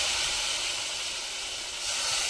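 Spice tempering sizzles in a kadhai set on a stove, a loud continuous hiss of hot oil that dips slightly midway and then swells again, with no speech over it.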